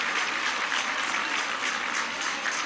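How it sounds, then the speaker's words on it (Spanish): Dense, steady applause from a crowd at a public event in La Antigua, Veracruz, honouring nurses and doctors, holding an even, unbroken roar of clapping with no pauses. "Un aplauso a todas las enfermeras, enfermeros, médicas, médicos."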